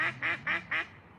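A duck quacks four times in a steady, evenly spaced series of nasal calls, moderately close, outdoors by a river.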